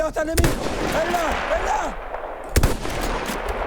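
Sharp sniper rifle shots in Battlefield 1, two loud cracks about two seconds apart over battlefield ambience with whistling and swooping effects in between.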